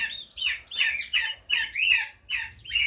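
Week-old turkey chicks give a run of shrill, scratchy squawks and peeps, about six calls in quick succession, close and fairly clear over a faint low rumble.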